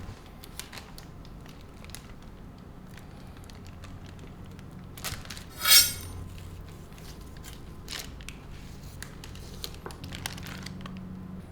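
A knife slices through cooked chicken with one brief crisp crackling crunch near the middle, surrounded by faint clicks and quiet kitchen handling.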